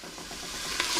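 Garlic being stirred in a pot of Caribbean hambone stew, a steady soft scraping and stirring with a faint sizzle underneath, close and continuous with no talking.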